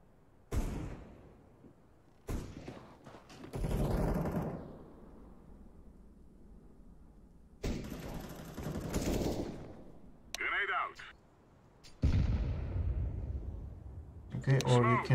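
Gunfire in the shooter game CS:GO, several short bursts of rapid shots separated by quieter gaps, with a player talking throughout over the game sounds.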